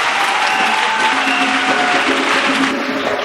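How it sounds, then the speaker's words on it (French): Congregation applauding during a French-language church worship service, a dense steady wash of clapping from many hands lasting throughout, with faint voices mixed in underneath. "Acclamons pour Jésus-Christ"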